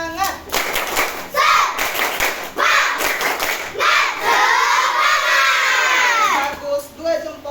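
Schoolchildren in an Indonesian classroom do a spirit clapping chant, clapping in a quick rhythmic pattern and shouting together loudly, with a teacher's voice leading between bursts.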